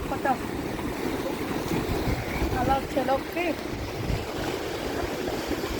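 Sea waves surge and crash onto rocks at a Visakhapatnam beach near Rushikonda, a continuous rushing roar mixed with wind buffeting the microphone, while brief voices break in now and then.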